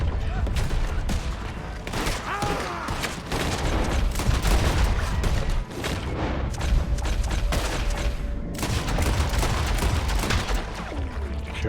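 Dense, continuous gunfire rattles through a Red Dead Redemption 2 shootout, with loud overlapping shots, booms and echoing reports filling the scene almost without pause.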